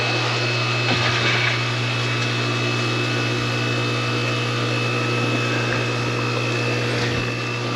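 A vacuum sucks sand out of a pool filter outdoors, giving a steady, loud motor whine with a constant droning hum and airy rush throughout, no talk.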